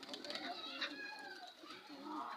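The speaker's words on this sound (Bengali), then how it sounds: "তিনটা কবুতর ধরছে" Kaldom pigeons coo softly at a neighbouring house, a brief, faint, continuous murmur of rolling coos with voices mixed in nearby.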